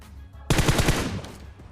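Automatic gunfire in the PUBG Mobile shooter game, a quick burst of several rapid shots cutting in sharply and fading within about a second.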